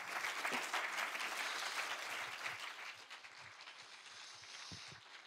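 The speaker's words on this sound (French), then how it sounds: "On peut applaudir Monseigneur." An audience applauds a visiting Monseigneur after a talk on faith, art and culture, a dense, sustained round of clapping heard from a distance that gradually thins toward the end.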